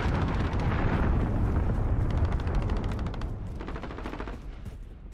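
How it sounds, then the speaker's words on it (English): An enemy cruise missile strike in Call of Duty: Modern Warfare during online Team Deathmatch: a dense, roaring barrage of blasts and rapid gunfire, loud at first, then slowly fading with scattered crackling pops. "Enemy cruise missile incoming!"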